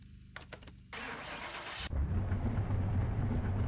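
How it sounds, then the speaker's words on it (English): The Hot Wheels Bone Shaker hot rod in the game Car Mechanic Simulator starts with a few quick starter cranks, then a loud whirring spin-up that catches into a deep, rumbling idle close by, with no talk. "Let's get the Bone Shaker started up."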